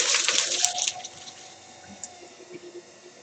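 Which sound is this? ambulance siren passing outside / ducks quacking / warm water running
warm water running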